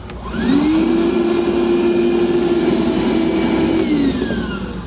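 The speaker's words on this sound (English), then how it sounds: "Vacuum up any of those metal shavings." A vacuum cleaner sucking up metal shavings whirs up loudly and runs with a steady high whine for several seconds, then winds down near the end.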